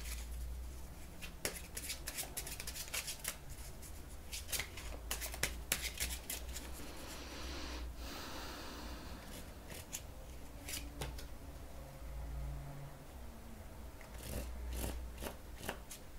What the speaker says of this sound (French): Je vais aller reposer des cartes dessus.